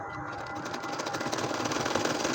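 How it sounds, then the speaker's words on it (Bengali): A household sewing machine stitches a nakshi kantha quilt laid in two layers, giving a steady, close, fast mechanical whirring and rattling that runs throughout without pause. "এবং একইভাবে আমি সম্পূর্ণ কাঁথাটা সেলাই করে নেব"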